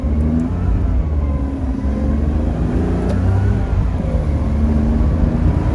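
A 2005 Ferrari Superamerica accelerating hard in manual mode with paddle shifts, its engine a loud, steady close roar with rising tones through the gears.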